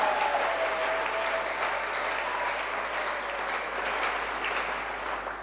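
A church congregation applauds in a steady, dense wash of clapping that holds at a constant level for several seconds, with a faint sustained tone briefly riding over it near the start.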